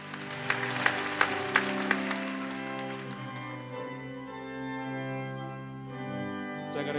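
A church congregation at a Korean prayer service claps in a rhythmic burst over sustained organ or keyboard chords, the clapping fading out while the music carries on.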